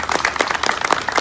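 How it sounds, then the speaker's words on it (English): Brief burst of audience applause for gracious kitchen hosts, scattered hand claps from a modest crowd rising and falling over about a second. "Y'all give them a round of applause for being such gracious hosts."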